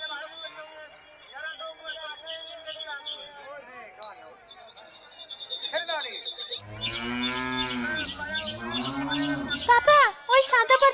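Cattle low loudly and close at a crowded livestock market where animals are sold for sacrifice, long drawn-out moos filling the second half after a stretch of background crowd chatter and chirping birds.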